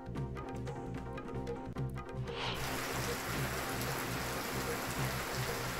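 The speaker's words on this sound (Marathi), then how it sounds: "कोल्हापूरमध्ये मुसळधार पावसानं हजेरी लावली आहे" Heavy rain pours down in Kolhapur, a dense continuous hiss of drops on surfaces that swells louder midway and holds steady, with no voices.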